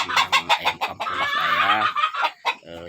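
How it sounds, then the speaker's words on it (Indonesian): Free-range village chickens in a coop, close and loud, with a burst of rhythmic clucks followed by a long drawn-out squawking call and more clucks, no talk. "saat sekarang saya berada di kandang ayam kampung"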